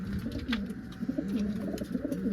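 Pigeons, a white male paired with a yellow female, coo in low, rolling, repeated calls, close and continuous, with faint rustling in the background.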